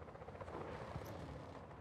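Helicopter in the video game Just Cause 4, a steady loud rotor roar with dense low chopping and broad rumble filling the whole short stretch, with no talking.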